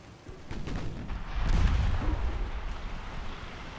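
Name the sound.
7-inch naval guns firing in a video game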